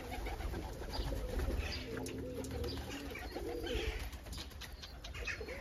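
Soft, low cooing of pigeons repeats over faint background noise, fairly quiet and close.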